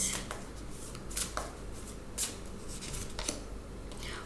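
Tarot oracle cards are shuffled and drawn close up, producing soft riffling and papery flicks in short bursts against a quiet background.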